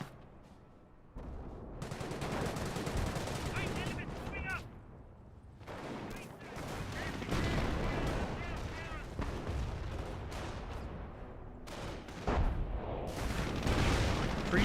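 An artillery barrage in Company of Heroes, a World War II strategy game, pounds away at close range, with repeated booms and crackling gunfire that keep going throughout and loud hits rising now and then.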